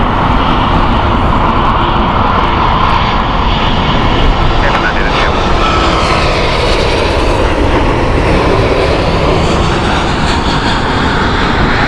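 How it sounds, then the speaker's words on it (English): A Virgin Atlantic Airbus A330-300 jet on a JFK flight roars loudly and steadily at Heathrow Airport, a broad continuous engine rumble with a slowly shifting pitch as it passes nearby. "Virgin next, Airbus A330-300 JFK flight"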